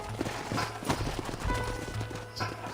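Horse hooves clip-clop steadily at a walk in the Western video game Red Dead Redemption, moderately close, with low ambient background sound and a faint voice.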